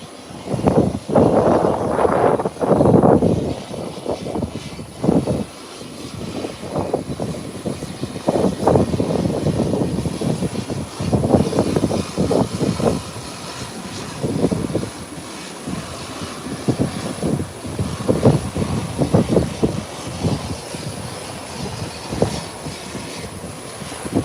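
A Kicks Express aircraft taxiing into its parking spot, its engines giving a continuous loud drone that swells and dips in steady pulses throughout, with no talk over it.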